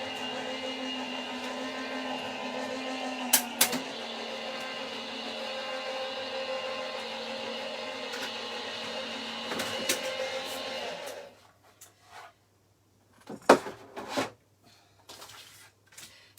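A Gemini die cutting machine runs with a loud, steady mechanical hum and whir for about eleven seconds, punctuated by a few clunks, then stops, leaving scattered quiet knocks and handling sounds.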